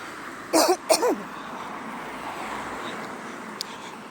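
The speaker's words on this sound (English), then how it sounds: "I feel a cough coming on." Two short, sharp coughs close to the microphone, one right after the other, then quiet room tone.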